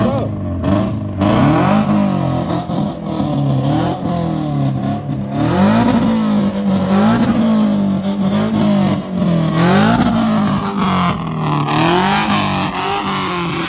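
JDM cars at a Japanese car meet rev their engines hard through loud exhausts, a close, continuous rising and falling roar with repeated throttle blips and no break in the noise.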